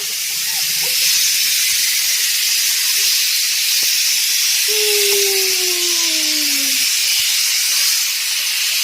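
A pressure cooker whistle: a high, steady hiss of steam with a whistling tone that slides downward over a couple of seconds, continuous throughout, while fish curry cooks.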